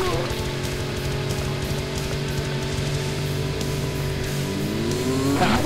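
A race car engine roars steadily in the video game Carmageddon, a continuous loud drone with slight pitch shifts and a rising rev near the end.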